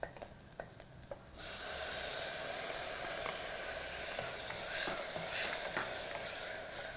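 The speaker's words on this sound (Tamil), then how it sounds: "இதில் வந்து அடுத்து டொமேட்டோ ஆட் பண்ணுறேன்." Tomatoes dropped into a pan of sautéed onions set off a sudden loud, continuous sizzle and hiss after a few quiet taps, with stirring scrapes rising over the steady frying.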